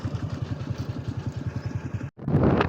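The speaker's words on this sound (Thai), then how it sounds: "ขี่รถผ่าน" A motorbike engine putters past on a rural road, its rhythmic mid-pitched thrum steady and fairly close before a brief cutoff and a burst of louder engine noise at the end.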